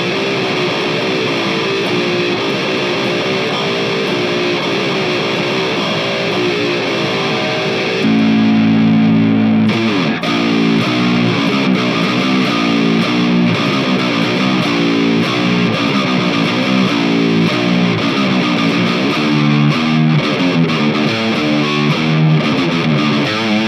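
Overdriven electric guitar run through a Hotone Krush bitcrusher pedal, loud and continuous with dense distorted chords and riffs, a brief shift in texture near the middle, played alone without talk.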